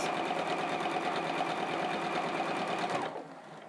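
A sewing machine stitching together quilt strips runs at a fast, even, close-up whir for about three seconds, then stops abruptly, leaving a quiet hum.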